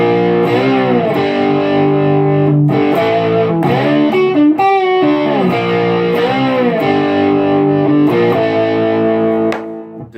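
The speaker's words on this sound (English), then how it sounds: "back into the main riff where you kick your distortion on" A loud, heavily distorted electric guitar plays a chunky slide riff of sustained chords and slides, stopping abruptly at the end.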